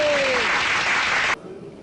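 Audience applause at a political rally or speech, a dense, loud clatter of clapping that cuts off abruptly partway through, leaving a quieter crowd murmur.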